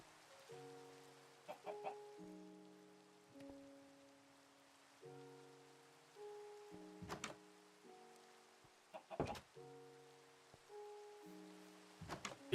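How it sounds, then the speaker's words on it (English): Soft, steady video-game rain patters at the edge of a snowy biome, faint and continuous, while stepped musical tones and occasional sharp clicks play over it. "it sounds like rain, but it's snowing because I'm like right on the cusp of the biome"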